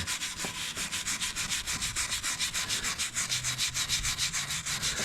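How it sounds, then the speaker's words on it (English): A heavy duty brush scrubs rust off a machine tool in quick, even back-and-forth strokes, a steady rhythmic rasp close up with no talking. "But I'll just keep scrubbing on it. I'll even use the heavy duty brush there."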